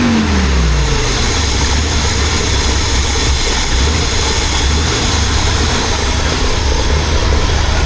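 A BMW 2002 engine is revved up and then held at a steady, loud, smooth running idle with a slight miss, a continuous close mechanical drone throughout.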